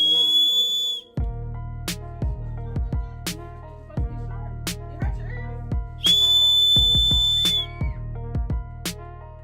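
A small whistle on a self-defense keychain gives two shrill, steady blasts, one at the start and one midway, over rhythmic background music with plucked low notes.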